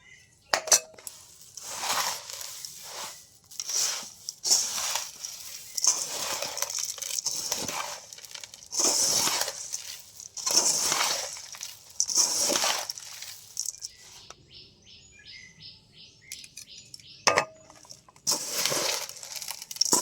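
Puffed rice mixture for moa being stirred and mixed, with rhythmic rustling scrapes and clinks of a utensil against a bowl in repeated strokes, pausing briefly near the end before resuming.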